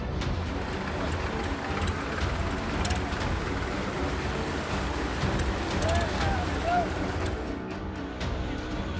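Strong flood water current rushing around a car stuck in the flow in Sirohi, a loud, continuous broadband roar mixed with wind buffeting the microphone, with faint voices in the background.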